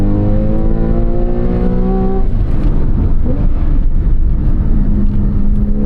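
A 2014 Porsche 911 Carrera 4S (991.1) with over 400 horsepower revs toward its nearly 8,000 rpm redline. The loud engine note climbs steadily in pitch, then drops sharply and carries on in a rougher, grittier roar.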